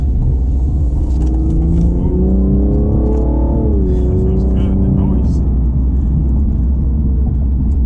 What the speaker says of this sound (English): it has quad exhaust tips. You can hear the noise. Very throaty.